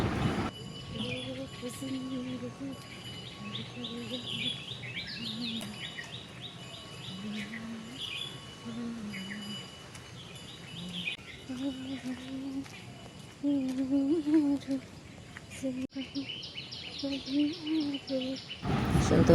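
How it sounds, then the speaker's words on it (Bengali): Several kinds of birds call in the morning air, with varied chirps and short songs coming and going over a quiet background. "শুনতে পাচ্ছেন কত রকমের পাখির ডাক"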